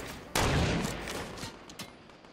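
Heavy gunfire erupts in a Fortnite battle royale match, a sudden loud burst of overlapping shots that rolls on and slowly fades, with a couple of sharper single cracks trailing near the end.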